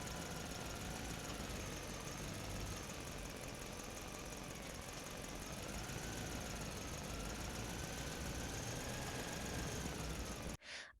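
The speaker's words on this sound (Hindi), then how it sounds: "आधी रात को दूर खेतों की ओर से ट्रैक्टर की आवाज आती है।" A tractor engine in distant fields at midnight drones steadily with a low, knocking rumble for several seconds, then cuts off abruptly near the end.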